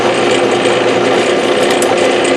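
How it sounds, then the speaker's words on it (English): A power drill bores small holes through a soft aluminum bracket clamped in vice grips, giving a steady, loud, close whirring grind that runs without a break and with no voices. "And we just drill a little hole through each corner."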